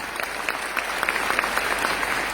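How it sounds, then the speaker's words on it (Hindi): Steady applause from an audience, many hands clapping together at a moderate, even level with no talking over it. "एक बार जोरदार तालियां होनी चाहिए"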